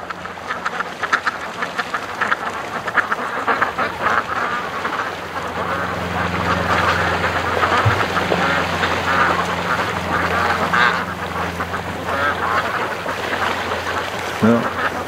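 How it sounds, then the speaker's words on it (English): Ducks raised for charity quack repeatedly at a lake in the morning, a busy overlapping chorus of calls against a constant outdoor hum. "Well, the ducks are having fun."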